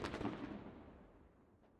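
Mortar rounds in a multiplayer video game match, one deep booming impact that rolls away into a fading rumble over about two seconds, fairly distant and quiet.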